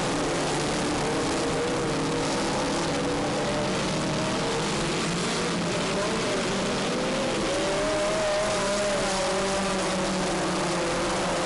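Midget race cars race four wide around a track, their engines blending into a loud, continuous droning roar with shifting pitch as the pack passes through the corners.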